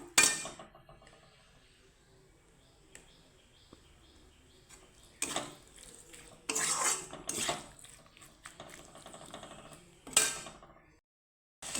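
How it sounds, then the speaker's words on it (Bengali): Onions and okra are stirred in a pan while cooking a home recipe, with a spatula scraping and clinking against the metal in scattered bursts. Quiet stretches sit between the louder scrapes, and no frying sizzle stands out clearly. "একটু নাড়িয়ে চাড়িয়ে একটু ভাজা ভাজা করে নেব"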